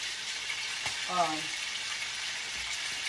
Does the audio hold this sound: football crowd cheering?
no